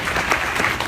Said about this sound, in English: a round of applause for our medical researchers